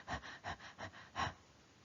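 A voice imitates a newborn baby's irregular breathing: four short, breathy gasps at uneven spacing, followed by a pause, close and fairly quiet.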